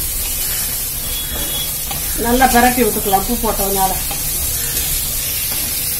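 Ivy gourd (kovakkai) frying and being stirred in a pan, a loud sizzle with scraping stirs in the middle seconds, under steady cooking hiss; a person talks briefly.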